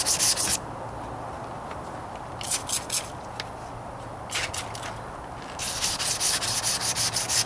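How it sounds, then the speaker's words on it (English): Wet sanding the white rattle-can paint on a 1998 Toyota Corolla hood with sandpaper: several bursts of close, bright rasping strokes separated by quieter pauses, ending in a steady run of rhythmic rubbing. "I'm really just wet sanding"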